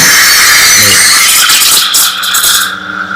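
A coffee machine's steam wand hisses and squeals loudly up close, a bright sustained rush with rattling bursts, fading near the end; a voice is partly heard.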